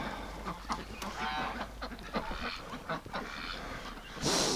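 Ducks and geese wintering in a barn on a freezing evening honk and quack in a dense, overlapping chorus, with a louder burst of calls near the end.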